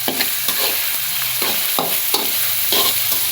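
Tomato and onion sizzle and fry in oil in a pan while being stirred, with repeated scraping strokes every half second or so over a steady close sizzle, no talking.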